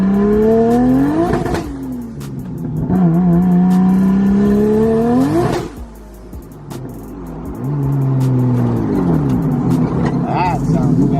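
A turbocharged RB25DET engine in a Datsun with a hesitation problem revs up repeatedly on a test drive, its pitch climbing then dropping between gear shifts, loud and close, with a voice talking over it.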